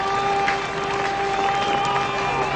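Cricket crowd at the Basin Reserve in a 1978 New Zealand versus England test erupting after a wicket, a dense continuous roar of applause and cheering heard from a distance.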